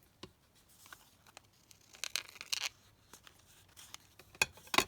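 Scissors trimming leftover paper scraps, a scattering of short crisp snips and light rustles, with a brief cluster of louder cuts near the middle and again at the end, close and quiet, no talk.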